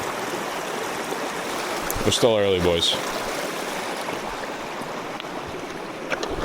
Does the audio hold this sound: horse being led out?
no